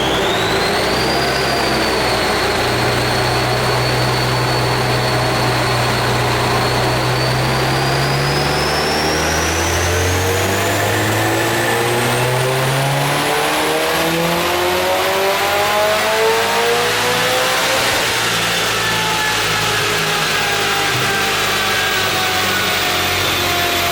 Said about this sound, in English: With the car back on the dyno, we optimized the ignition timing, we increased the boost level to about 22 psi, and we adjust the fueling to suit.